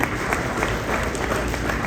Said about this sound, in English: Like clap if you like that, right?